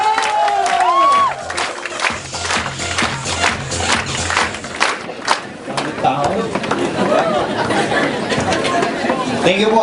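A seminar audience claps and cheers enthusiastically, crowd voices and excited shouts mixing with dense clapping, while a host's amplified voice calls over the noise.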